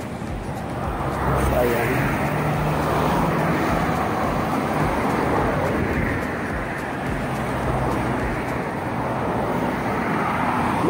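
Busy road traffic with many vehicles passing on a Philippine street, a steady close roar of engines and tires throughout, with a person talking over it.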